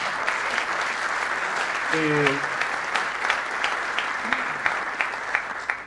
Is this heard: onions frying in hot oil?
no